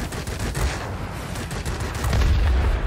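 A Soviet La-7 fighter fires its three 23 mm cannons in World of Warplanes, a loud, dense rattle of heavy shots that continues without pause and swells toward the end, mixed with engine roar.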